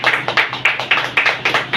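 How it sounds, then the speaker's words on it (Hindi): An indoor audience at a DXN training program claps together in a steady, rhythmic pattern, loud and close, with no voices over it. "हमारे अपलाइन, उनके लिए जोरदार ताली होनी चाहिए"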